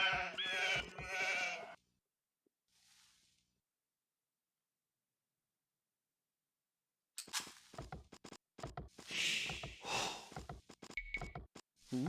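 Sheep in the video game Age of Empires 2 bleat in short, close bursts, separated by a long silence, then more bleats and scattered game sounds follow.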